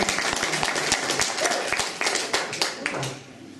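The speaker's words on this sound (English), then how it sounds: "I thought I'd give you a round of applause for turning up." An audience at a talk on deities and spirituality gives a round of applause to welcome the speaker: dense, close clapping throughout that tapers off at the end.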